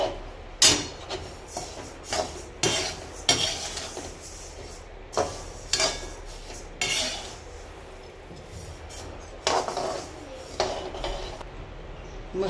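Green village coriander seeds dry roasting in a pan, with a metal spatula scraping and clinking against the pan in repeated bursts, close and moderately loud, with quieter stretches between.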